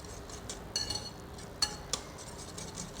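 A spoon mixes crushed red chilli and salt into mango chutney, giving a few faint, quiet clinks and taps against the bowl with soft stirring between them.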